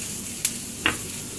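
Onions and sausage sizzle in a paella pan for shrimp paella under a soft steady fry, with two brief sharp scrapes of stirring close by and no voices.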